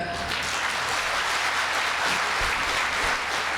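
An audience at a Tamil pattimandram debate event claps steadily, giving sustained applause from a crowd across the whole stretch without a voice over it.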